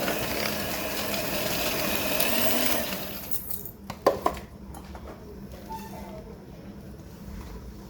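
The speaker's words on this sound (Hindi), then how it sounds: "तो यहाँ पर पहले मैंने इसको मिक्स कर लेना है प्रॉपरली ताकि उड़े ना" Electric hand mixer whirs steadily as it blends butter, icing sugar and flour in a bowl, then stops, leaving a few clanks of the beaters against the bowl and quiet room noise.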